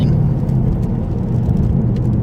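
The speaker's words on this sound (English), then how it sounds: "It's never the wrong weather for listening to this car's exhaust." A car's exhaust droning steadily on a rainy drive, a loud, continuous low rumble with a faint whir on top, close and unbroken.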